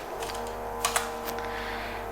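A few isolated, crisp key presses on a computer keyboard while entering a command in airfoil simulation software, heard as two or three quick clicks near the middle over a steady background hum.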